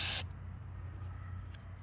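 A sharp, loud burst of brake cleaner sprays through the jet of a plastic Briggs and Stratton carburetor, then cuts off to a faint lingering hiss and drip.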